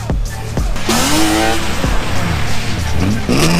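A drifting car close by screams with a loud revving engine and long tire squeals that rise and fall in pitch, with short thumps and brief voices mixed in.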